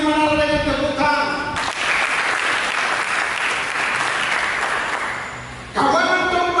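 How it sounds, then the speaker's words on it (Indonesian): A church congregation breaks into steady applause during a sermon, loud and dense for several seconds, with a pastor's voice heard before and after it. "Mari kita sambut firman Allah dengan tepuk tangan."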